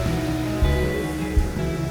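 The rushing water of Bridalveil Fall in Yosemite roars in a loud, continuous low rumble, with a couple of heavier surges and wind buffeting.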